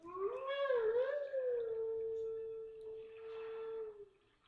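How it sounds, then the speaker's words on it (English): Wolf Link from the Zelda game Twilight Princess lets out a single long, close howl that rises, wavers, then holds a steady drawn-out tone for several seconds before fading. "The way Link howls is just awesome."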